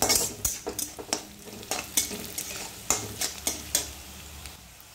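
Onions and Kashmiri chili frying in a pan, with a steady sizzle under a run of sharp scraping, stirring clacks from a spatula against the metal pan, loud and close.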